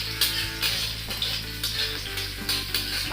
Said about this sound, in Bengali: কাঁচা লঙ্কাটা একটু ভাজা হয়ে গেলে